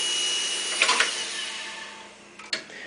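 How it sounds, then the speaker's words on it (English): A Studer A80 reel-to-reel tape recorder with worn bearings gives a steady mechanical whine with a high-pitched edge throughout, broken by a few brief clicks and clunks near the start and end. "maybe these bearings haven't been replaced, because you can hear a high-pitched whining noise."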